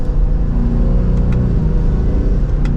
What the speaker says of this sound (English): if for whatever reason you don't want to hear that exhaust anymore, we can put it into quiet mode